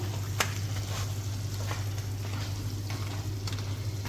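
Pieces of crab fry in a hot pan while being stirred for a crab fry dish, with a steady, moderately faint sizzle and occasional scraping turns, no voices.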